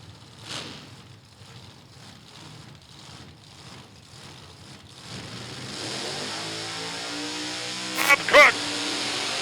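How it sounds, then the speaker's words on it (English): A 1933 Willys drag car powered by a 400 cubic inch supercharged small block Chevy, running at a drag strip; a broad engine roar builds steadily over the clip with crowd or announcer sound in the background and a sharp burst near the end. "a 33 Willys and a 400 cubic inch supercharged small block Chevy"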